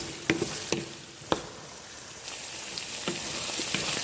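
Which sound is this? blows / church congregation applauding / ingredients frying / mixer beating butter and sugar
ingredients frying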